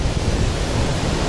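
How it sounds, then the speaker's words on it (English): Strong wind roars across the microphone outdoors, a steady broadband rush with gusty low buffeting and no voices. "Holy shit, it is windy"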